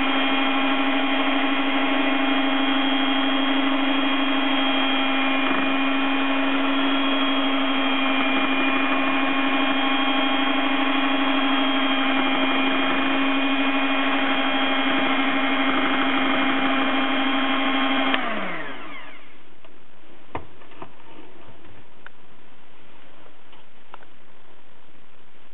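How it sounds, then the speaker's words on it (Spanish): An electric blender whirs loudly and steadily for most of the stretch, then cuts off abruptly, leaving quiet faint clatter afterward. "Ahora batirem amb la batidora."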